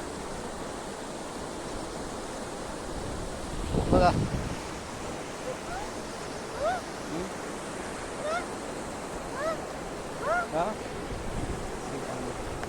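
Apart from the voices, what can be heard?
flooded river water flowing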